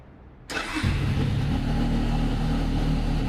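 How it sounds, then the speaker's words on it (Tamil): A 2026 Benelli TRK 502X adventure motorcycle with stock exhaust starts up and settles into a loud, steady, near engine note held around 2000 RPM, running alone for about three seconds. "இப்போ நம்ம இந்த பைக்கோட எக்ஸாஸ்ட் நோட்டை கேட்போம்."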